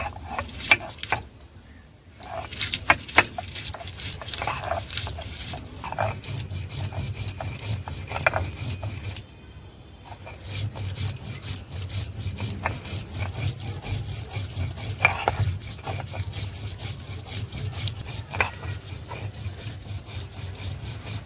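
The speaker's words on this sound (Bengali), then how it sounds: "কাঁচা লঙ্কাগুলো ভালো করে বেটে নেব।" Green chillies are ground on a traditional grinding stone in a home kitchen: steady, rhythmic rubbing and scraping strokes of stone on stone, close and continuous, with two brief pauses.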